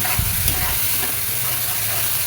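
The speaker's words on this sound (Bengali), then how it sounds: "সুন্দর করে সবগুলো মশলা একসাথে কষিয়ে নেব।" Spices being sautéed in oil for shutki bhuna give off a constant, close frying hiss, with a few soft stirring knocks near the start and no speech.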